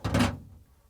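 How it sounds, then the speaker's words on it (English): An upper tray slides into an LG/Kenmore freezer with a short, dull rumbling glide and a soft thud, close and brief, then quiet. "Next, I'm going to slide the upper tray in"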